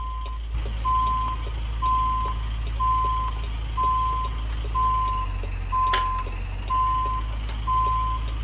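In American Truck Simulator, a truck backing into a loading dock sounds a regular series of reversing beeps, about one per second, over a loud steady low engine rumble, with one sharp click partway through.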